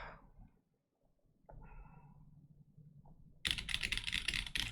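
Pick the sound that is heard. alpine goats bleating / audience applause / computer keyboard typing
computer keyboard typing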